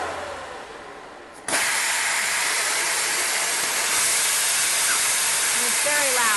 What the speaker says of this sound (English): I'm going to turn the cooling system off so you guys can hear the release valve